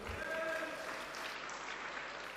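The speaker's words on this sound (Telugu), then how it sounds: "చప్పట్లు కొట్టి దేవుని స్తుతించు" A church congregation claps in praise during a Telugu sermon, a soft steady patter of many hands throughout, fairly distant and low in level.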